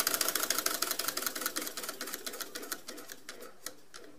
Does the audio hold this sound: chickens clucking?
no